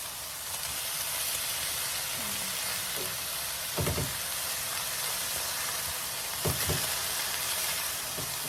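Salisbury steak patties frying in a pan give a steady, even sizzle that runs throughout, with a few brief soft knocks and scrapes rising above it.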